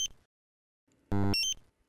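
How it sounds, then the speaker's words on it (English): A Dräger X-am 2500 gas detector sounds its A1 alarm as one short, sharp electronic beep, alone in near silence, with faint voice fragments just before and after. "The A1 alarm sounds if the concentration is higher than normal but doesn't yet constitute an acute hazard."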